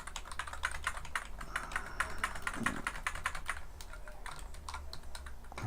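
Rapid, steady clicking of computer keys as keyboard shortcuts are tapped out in Visual Studio Code, fairly faint and close, with no voice over it.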